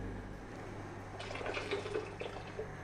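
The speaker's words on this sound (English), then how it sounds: "I just have to be very careful when I'm putting the jars into the boiling water" Glass canning jars of tomatoes are lowered into a pot of boiling water, giving a soft bubbling and splashing burst of liquid over a low steady rumble, fairly quiet and without talk.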